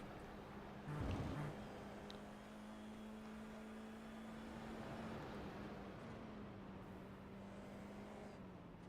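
An F4 race car in iRacing at Virginia International Raceway drones steadily at high revs, with a brief rough rattling burst near the start as the wheels clip the rumble strips, then a continuous engine tone throughout.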